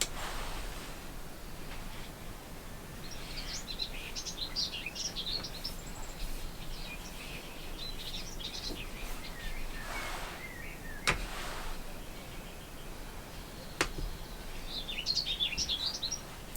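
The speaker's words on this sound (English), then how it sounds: "I can hear nothing but birds" Birds chirp and twitter in short bursts outdoors, with a steady background hiss and a couple of sharp clicks.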